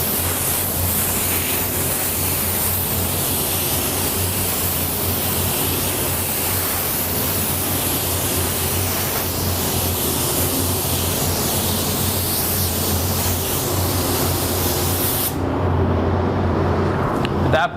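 A spray gun lays down a coat of Createx candy paint with a steady, loud hiss of airflow that holds for a long stretch, then cuts off near the end.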